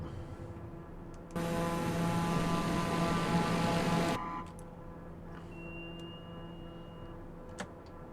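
Black Square TBM 850 turboprop in a flight simulator roaring through its takeoff run, a loud steady broadband engine surge with a low drone lasting about three seconds, then dropping back to a quieter cabin hum with a faint whine.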